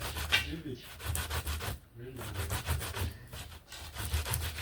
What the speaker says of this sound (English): I've always been doing it this way, the local way, by creating it with grater.